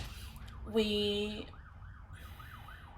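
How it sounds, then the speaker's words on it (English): A wailing emergency siren rises and falls in repeated sweeps, heard at a distance from a nearby highway, with a brief horn-like blast partway through. "Excuse the sirens. There's a highway right outside my window."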